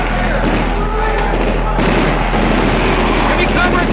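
Gunfire and explosions ring out during Canadian Army reserve urban warfare training with live ammunition, a dense, continuous barrage of thuds and reports loud throughout, with voices mixed in.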